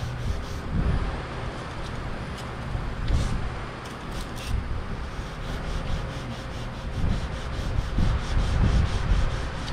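Continuous abrasive rubbing of 600-grit sandpaper on car clear coat, removing a run, a rough, steady scratching that swells and eases in strokes, close up.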